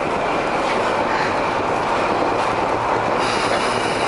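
A train moves through a train station with a dense, steady rumble, wheel squeal and faint clickety-clack, loud and continuous with no voices.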